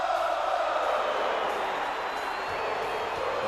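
Arena crowd roaring steadily at an NXT TakeOver show in the WWE 2K22 wrestling game, a dense, continuous wash of cheering that holds at an even level throughout without breaks.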